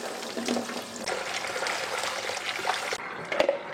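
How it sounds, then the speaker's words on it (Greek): Cold tap water pouring over cooked pumpkin in a kitchen sink, a steady rushing stream that cuts off near the end, followed by a couple of faint clinks and drips. "Θα το ξεπλύνω με κρύο νερό, να το στραγγίξω για να μπορέσω να το χρησιμοποιήσω."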